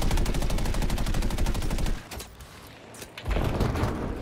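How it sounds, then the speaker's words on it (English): Rapid machine-gun fire from a strafing run in a flight combat video game, a loud continuous rattling burst for about two seconds, a brief lull, then more gunfire and engine roar. "That was a cool strafing run with my wingman here."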